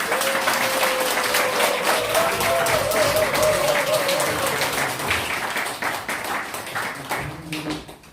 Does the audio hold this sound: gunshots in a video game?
no